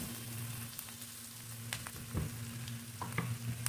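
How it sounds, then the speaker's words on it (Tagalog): Fish frying with fermented black beans in a pan, a steady close sizzle with occasional scraping stir clicks from the utensil, no voices. "Mix it until it will caramelize"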